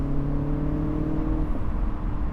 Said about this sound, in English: You can definitely hear the turbos.